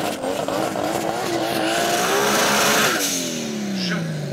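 A BMW 2.5-litre turbo rally car making about 600 hp roars past at close range, its engine note climbing and then dropping sharply as it passes, loud and continuous with crowd noise beneath.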